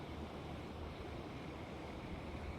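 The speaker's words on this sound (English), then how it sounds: "I can hear the water moving under there." Water washes and churns continuously near Ponte Vedra Beach while fishing, a low, steady rush of surf with wind noise and no distinct individual waves or voices.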